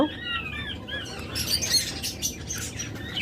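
A breeding pair of pet birds calls in close, repeated chirps and whistled tweets, with some scratchy squawks and fluttering, loud and up close with no talk.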